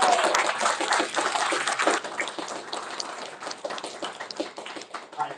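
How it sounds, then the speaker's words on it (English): Audience at a comics creators panel during Free Comic Book Day gives a round of applause, dense clapping that fades gradually over several seconds. "let's give one more round of applause to our awesome creators"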